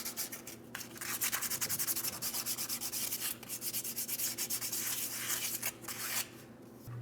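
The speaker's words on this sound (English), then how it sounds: "Fine sandpaper." Fine sandpaper rubbed by hand over a part near the rear differential of a 2007-2014 Ford Edge 3.5L V6 during a driveshaft replacement, giving a steady, close scratchy rasp in rapid back-and-forth strokes for several seconds with no talking.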